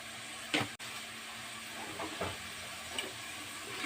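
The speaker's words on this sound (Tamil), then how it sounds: "நல்லா மிக்ஸ் பண்ணி விடுங்க. தக்காளி நல்லா உடஞ்சி வரட்டும்." Tomatoes sautéing in a pan for a tomato curry are stirred with a few short scraping strokes over a low, steady sizzle.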